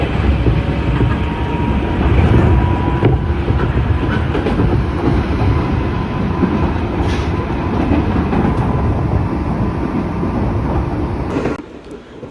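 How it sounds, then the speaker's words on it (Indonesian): Interior ride aboard a KRL commuter train, a second-hand unit from Japan, with a steady loud rumble and rhythmic clickety-clack of wheels running continuously before fading near the end. "jadi untuk KRL yang aku naiki saat ini itu adalah KRL bekas dari Jepang ya guys"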